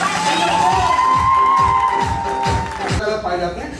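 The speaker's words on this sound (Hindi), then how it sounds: "मैं चाहता हूँ सी बकथॉर्न के लिए ताली बजानी चाहिए।" Meeting audience clapping in a rhythmic, loud burst with cheering voices and a sustained shout over it, then tapering off as talk resumes, close and crowded.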